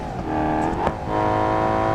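A fast car's engine in the driving game BeamNG sings a sustained, revving note up close, steady and loud with no talking.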